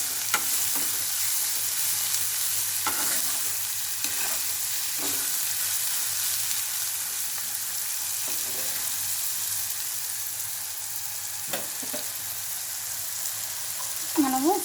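Vegetables fry in a pan with a steady sizzle and hiss, broken by occasional scraping stirs of a spoon. A voice is briefly heard in the background.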